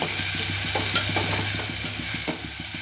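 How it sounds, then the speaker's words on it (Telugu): Tomato and onion pieces frying in oil are stirred in a pan, giving a steady close sizzle with a quick, regular scraping rhythm of the spoon. "టమాటా ముక్కలు యాడ్ చేశానండి వీటిని కలుపుకుందాం కొద్దిగా"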